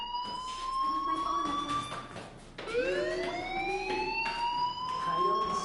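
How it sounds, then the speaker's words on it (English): A fire alarm wails in long rising electronic sweeps that restart partway through, loud and steady with no voices over it. "Hey, do you hear that fire alarm?"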